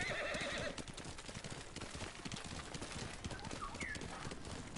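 A horse whinnies loudly at the start, then hooves clip-clop steadily, with faint bird chirps behind them, in a samurai video game.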